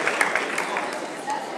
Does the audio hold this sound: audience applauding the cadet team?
yes